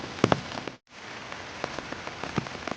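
Rain falls steadily on surfaces in a national park near caves during the rainy season, a dense close patter with a few louder drops and one brief cut in the sound.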